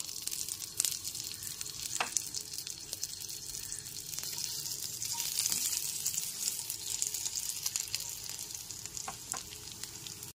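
Fried potato pieces go into a pan of oil with cumin, bay leaf and dry chili for an Aloo Bhindi Jhol, giving a steady close sizzle and frying hiss throughout with a few clacks from stirring.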